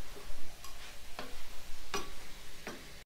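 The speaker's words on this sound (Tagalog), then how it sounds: "At haluin natin." Jackfruit being stirred in a cooking pot, with a few distinct scraping clinks of the utensil against the pot spaced about a second apart over a soft, low background.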